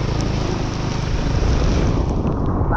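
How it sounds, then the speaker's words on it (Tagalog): Heavy rain and strong wind lash down during a storm, a dense, continuous roar pressing right against the microphone, loud and unbroken with no voices. "Ang lakas ng ulan at saka hangin."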